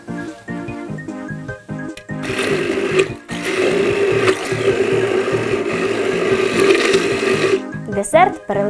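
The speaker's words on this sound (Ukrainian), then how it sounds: "Усі інгредієнти перемішуємо блендером." A kitchen blender whirs loudly and steadily for about five seconds as it purees yogurt, currants and sugar into a dessert, then cuts off. Short bursts of sound come before and after it.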